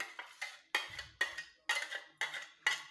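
A spoon stirring and scraping a homemade hair dye mixture in a bowl, giving rapid rhythmic clinks and scrapes repeated about every third of a second, close up and crisp.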